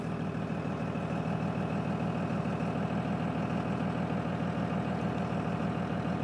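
A 2002 Cummins diesel truck engine idling steadily just after a cold start, a loud, even, low clattering rumble that holds constant throughout with no voices.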